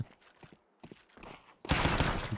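Gunfire in the Counter-Strike 2 video game: a few faint taps early on, then a loud dense burst of shots filling the last second near the listener.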